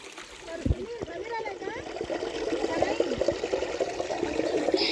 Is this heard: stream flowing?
yes